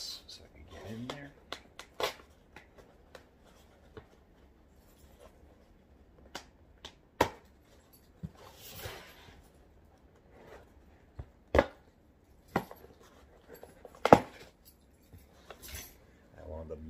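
Keys scrape and snap through packing tape on a cardboard box holding a guitar, giving a series of sharp irregular cracks and rustles up close, with a person talking in between.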